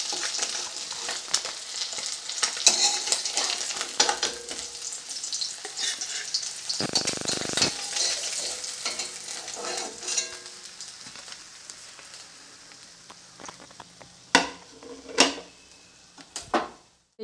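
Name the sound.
bata fish frying in oil on low heat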